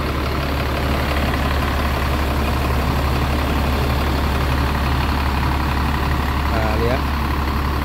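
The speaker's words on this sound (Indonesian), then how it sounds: "Suara mesinnya masih enak ya." A PO Mahendra bus engine idles with a loud, steady low rumble that stays constant throughout, while someone speaks briefly over it.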